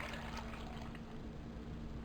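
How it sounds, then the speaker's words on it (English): Cold water pours into a Vitamix 7500 blender container as a quiet, steady broadband wash with no distinct splashes, running continuously for about two seconds. "Just to use ice water, or just cold water, we're going to pour that in there."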